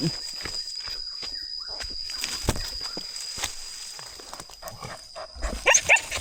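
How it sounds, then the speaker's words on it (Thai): A dog barks loudly in a rural outdoor setting, a series of sharp barks over several seconds, fairly close and uneven in rhythm, with a louder burst near the end. "เห่าสนั่นอยู่นะบัง"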